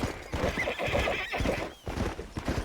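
Horse hooves clip-clop in a quick galloping rhythm in the Red Dead Redemption video game, close and steady, with a horse neighing over the beat.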